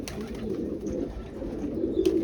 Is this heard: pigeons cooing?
yes